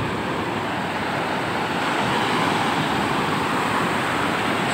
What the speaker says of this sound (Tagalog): dagko na kayo bawod.